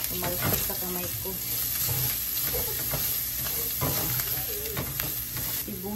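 Garlic fries in a hot pan for a chicken stir fry, hissing in a loud, steady sizzle with sharp pops and splatters crackling throughout, and stirring scrapes now and then.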